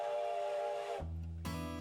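Steam train whistle, a short sustained tonal blast that cuts off after about a second, followed by a second deeper chord-like blast, heard clearly with no talking.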